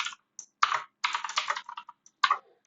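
Quick bursts of keystrokes on a computer keyboard come in short, uneven clusters separated by brief pauses, close and quiet, with no one talking.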